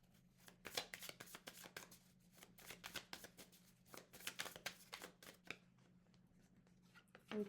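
A Magic Luna tarot deck riffled and shuffled by hand, a quiet run of quick papery flutters and card slaps in irregular bursts, close and soft, without speech.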